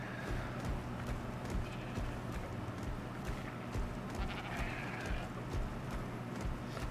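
Sheep in the modded survival game ARK bleat now and then over a busy background of footsteps and clattering movement, the calls fairly faint and scattered across the scene.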